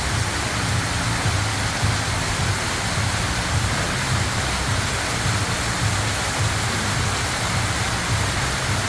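A water fountain at a restaurant entrance splashes in a dense, steady rush of falling water, loud and close with no pauses.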